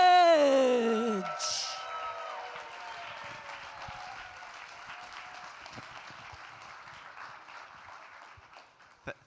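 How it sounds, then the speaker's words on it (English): A room full of spectators at the Microsoft Excel World Championship quarterfinals applauds a competitor, starting under a loud announcer's voice and music, then settling into a fainter sustained clapping that gradually thins out. "Stand to your feet, give it a round of applause to"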